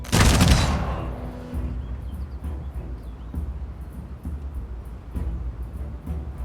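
Ranged units open fire in a Humankind strategy battle, producing a loud burst of massed gunfire at the start, followed by repeated softer volleys and thuds at regular intervals.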